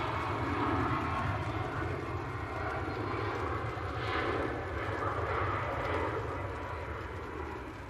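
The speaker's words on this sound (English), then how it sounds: "I've got a Loganair prop. We're going to Aberdeen. It's an ATR 42." An ATR 42 turboprop run by Loganair, bound for Aberdeen, sends a steady broadband engine roar across an airport apron in the rain, fairly distant and constant, with faint talk underneath.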